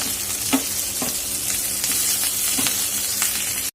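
Tender green chillies frying in a pan for Solapur-style chilli bhaji: a loud, close, steady sizzle with regular spatula scrapes, cutting off abruptly at the end.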